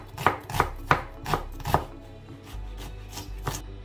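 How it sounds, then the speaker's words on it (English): A knife chops onions into tiny pieces on a cutting board, sharp close thuds in an uneven rhythm, about seven distinct strikes with brief pauses and no talking. "for my onions, I'm going to chop them in tiny little sizes"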